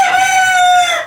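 An old farmyard rooster, missing neck feathers plucked by hens, lets out a single loud, close crow that trails off at the end.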